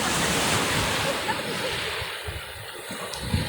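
Rough sea during a typhoon, a continuous loud roar of surf with wind buffeting the microphone and occasional thumps, steady throughout with no voices.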